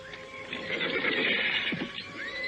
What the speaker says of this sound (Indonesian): Enak ya belajar naik kuda dengan Kirampus, Romo